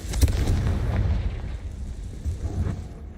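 A Confringo fire spell in the Hogwarts Legacy video game, a booming explosive blast that opens with a sharp burst, rumbles on, then swells briefly again before fading.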